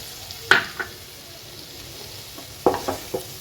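Spice paste with Kashmiri chilli fries in oil for a thin bata fish curry, a soft ongoing sizzle broken by a few sharp scraping stirs of a spoon in the pan, close by.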